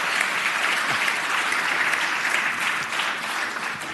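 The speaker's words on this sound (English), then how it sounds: "go ahead and clap for them, too" Sustained, dense applause from an audience in a Senate chamber gallery, welcoming Boys and Girls Club visitors; the clapping is loud and even throughout, with no voices on top.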